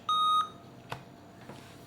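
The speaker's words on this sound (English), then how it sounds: "That beep was me plugging the power cord in." A single clear electronic beep from an Acer TravelMate 5520 laptop as its power cord is plugged in, short and steady in pitch, followed by quiet with a couple of faint clicks.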